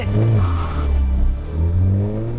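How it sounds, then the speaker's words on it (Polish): A Volkswagen Golf GTI engine revving hard at a concours d'elegance, loud and close, with two long rising and falling pulls and a throaty exhaust note, heard alone without talking. "Jak przytrzymasz gaz, wciśniesz na maksa i puścisz, to ta chyba nieprzepalona mieszanka tam z tego wydechu pyrka tak fajnie"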